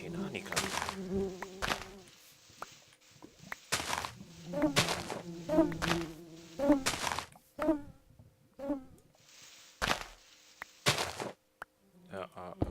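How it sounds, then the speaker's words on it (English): Bees buzzing in the Minecraft video game, several droning hums that fade in and out, broken by loud clicks and thuds from gameplay, with no speech. "There are a lot of bees around me at the moment."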